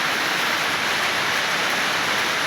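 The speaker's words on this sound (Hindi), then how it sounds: "इतनी बारिश हो रही है, आवाज़ आती है बारिश की" Heavy rain in Uttarakhand falling outdoors as a loud, dense, unbroken hiss that holds steady throughout, with no voices.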